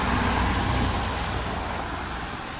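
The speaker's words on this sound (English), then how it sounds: "There's a CTA bus for you." Traffic rolling through a Chicago snowstorm as a CTA city bus passes, a steady broadband road rumble with low engine drone that eases slightly toward the end, no voices.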